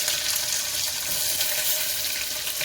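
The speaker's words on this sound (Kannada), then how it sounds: "ಈ ಥರ ಕಟ್ ಮಾಡ್ಕೊಂಡಿರೋ ಈರುಳ್ಳಿನ ಹಿಂಗೆ ಹಾಕ್ಬೇಕು ಎಣ್ಣೆಯಲ್ಲಿ" Thick-cut chopped onions dropped into hot oil for a lentil biryani, producing a loud, dense, continuous sizzle up close with no talking.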